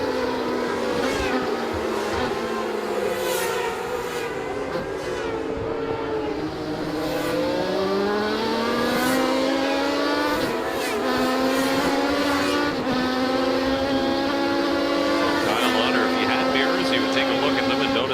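A Modified Legends race car engine roars continuously from on board, revving up and down through gear changes with whining harmonics, loud and close throughout.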